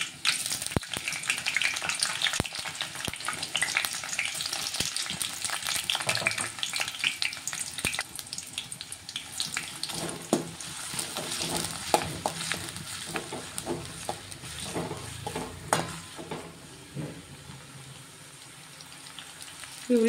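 Chopped onions fry in oil for a brinjal curry, a steady broadband sizzle with scattered clinks and scrapes of stirring throughout, moderately loud and close with no talk.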